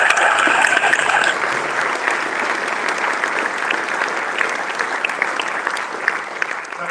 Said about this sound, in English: please give these guys a massive round of applause